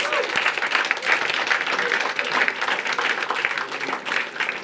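An event audience at a climate hackathon's awards gives a round of applause for an 11-year-old ballerina. The clapping is steady and moderately loud and runs for several seconds, with a few voices mixed in.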